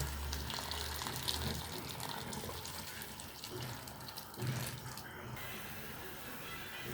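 Hot water pours from a kettle or tap over meat for boiling, a faint steady splashing gush running throughout in a home kitchen.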